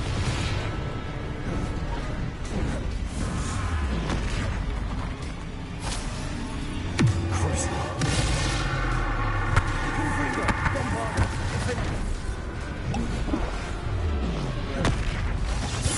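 Repeated Confringo spell blasts in Hogwarts Legacy, fiery explosive bursts and booms landing in steady succession over a constant loud battle din, with sharp impacts near the middle and end and some talk underneath.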